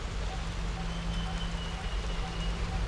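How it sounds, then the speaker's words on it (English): Rain begins falling in southern Thailand near Phatthalung, a steady soft hiss of drops on surfaces under a low constant hum, with no voices heard. "Oh, and the rain is starting to come down now."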